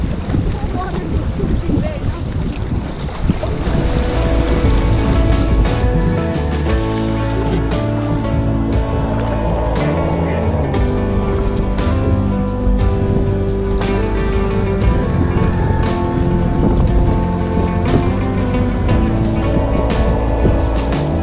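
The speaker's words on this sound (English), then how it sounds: "Sometimes going with the waves is a little nerve-wracking too." Waves slapping against a canoe on open water along a rocky coast, steady loud wash of water and gusting wind buffeting close by, with no talk.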